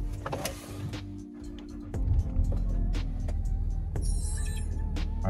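A Land Rover with a suspension fault starting by push button: a short electric whir and clicks, then the engine catches and settles into a steady low idle hum with a brief higher electronic tone, close inside the cabin.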